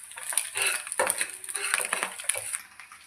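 A spoon stirs egg curry in a pan, giving soft scraping and clinking scrapes at an irregular rhythm, close and fairly quiet with a faint sizzle underneath.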